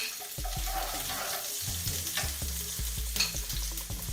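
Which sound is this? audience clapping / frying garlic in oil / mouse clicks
frying garlic in oil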